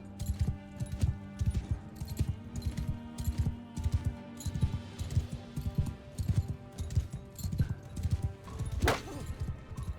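A horse galloping in the Mount and Blade II Bannerlord game, with steady rapid hoofbeats and jingling tack throughout and a brief whinny near the end, close and fairly loud.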